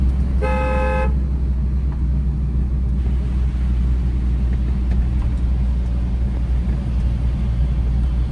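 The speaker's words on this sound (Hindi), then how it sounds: "लॉन्ग हॉर्न प्रेस करो" A single car horn honks for under a second over the constant low rumble of a running car engine in city traffic.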